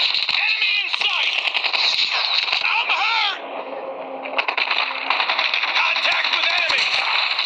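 Gunfire in the mobile shooter game Call of Duty Mobile, dense rapid automatic bursts with a short lull midway, mixed with game audio and excited voices talking.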